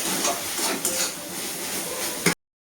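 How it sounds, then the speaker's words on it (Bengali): A spice paste is fried and stirred in oil in a pan, a continuous close sizzle mixed with scraping and stirring, ending with a sharp clink before cutting to silence. "এবার মশলাটা ভালো করে কষিয়ে নেব।"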